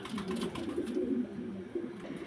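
A flock of pigeons at a large pigeon farm in Faridpur district, Dhaka division, Bangladesh, coos in a steady, overlapping low murmur that carries on without pause, with no voices.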